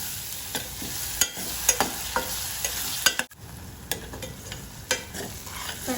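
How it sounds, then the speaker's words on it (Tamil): Masala for Hyderabad kuska sautés in a pan with a continuous soft sizzle, while a spoon scrapes and taps against the pan in a loose, repeated rhythm close up. "சேர்த்துருக்கிற மசாலாவோட பச்சை வாசனை போகிற அளவுக்கு நம்ம இதை வதக்கி எடுத்துக்கலாம்"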